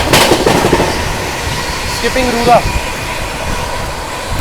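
New Delhi–Jaynagar Swatantrata Senani Superfast Express train rushing past, heard from a moving train as a continuous broadband roar with clattering bursts, while someone talks briefly over the noise.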